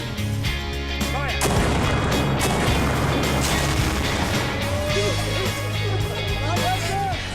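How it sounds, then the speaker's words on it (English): Army artillery fires with heavy booming blasts and a rolling, rumbling roar that persists through the whole stretch, loud and dense, with voices faintly mixed in. "It even offered John the opportunity to try out some real army firepower"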